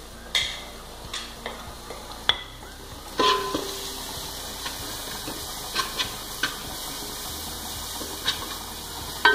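Turmeric powder fries in a pan with a low steady sizzle, while sharp utensil taps and scrapes of stirring come at irregular intervals, close and moderately loud.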